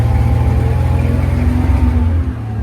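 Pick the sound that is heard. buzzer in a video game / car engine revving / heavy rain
car engine revving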